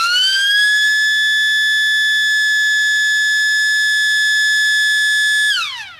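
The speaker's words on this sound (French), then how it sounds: "À 8h30 exactement, la sirène sonne." A siren marks the start of a primary school certificate exam, a loud steady wailing tone held for several seconds before winding down at the end, with no talk over it.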